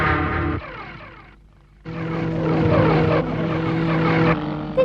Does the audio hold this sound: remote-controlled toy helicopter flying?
yes